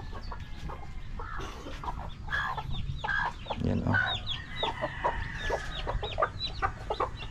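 Chickens cluck repeatedly in a busy farmyard, with a rooster among them, their short calls close and overlapping throughout while a person briefly speaks.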